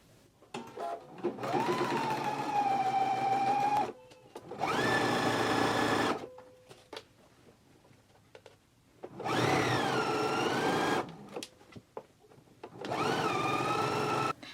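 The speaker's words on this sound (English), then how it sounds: "we can go to our sewing machine and stitch them in a 3/8 of an inch seam allowance" A home sewing machine stitches pant pocket seams in four separate runs of steady motor whir, each lasting about two seconds with quiet pauses between, close and clear.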